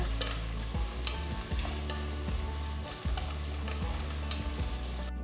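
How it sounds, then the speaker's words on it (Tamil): Steady sizzling of sliced onions and green chilies sautéing in a pan, with a few scraping stirs of a utensil; close and continuous, no voices. "நீல வாக்கில் நறுக்குன 2 வெங்காயம், கீர்ன 2 பச்சை மிளகாய் சேர்த்து வெங்காயத்தை பொன்னிறமாக வதக்குங்க"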